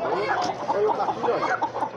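Capoeira chickens cluck at an outdoor poultry fair in Altinho, Pernambuco, Brazil, a steady close cluster of clucks and murmuring calls that runs throughout amid faint market background.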